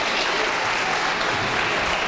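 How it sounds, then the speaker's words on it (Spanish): A live audience gives a comedian loud, dense applause, a continuous close wash of clapping with no pauses. "Yo les pido un fortísimo aplauso, grande, para Tony Rodríguez."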